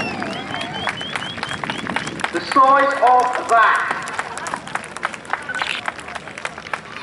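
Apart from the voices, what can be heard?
crowd applauding at an air show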